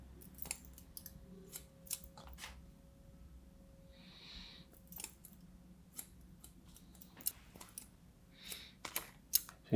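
Scissors cut the top section of long hair at a haircut in a salon: crisp, close snips come in irregular clusters with quiet pauses between them and soft breathing underneath.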